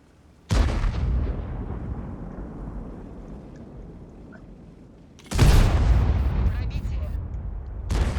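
A tank's main cannon fires in World of Tanks, two heavy booming blasts several seconds apart, each with a long rumbling decay, loud and close.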